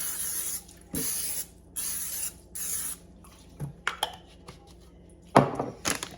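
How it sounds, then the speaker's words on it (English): Three short bursts of nonstick cooking spray hiss in quick succession onto a baking dish, followed by a few light clicks and taps, close and clear. "spray it with some nonstick spray"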